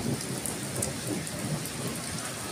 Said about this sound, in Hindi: ये वाली बारिश पहले से काफ़ी ज़्यादा तेज़ है, और ये तकरीबन 10 मिनट से हो रही है